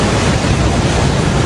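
Tidal bore on the Qiantang River roaring as a dense, continuous wash of broadband water noise, loud and steady with no voices.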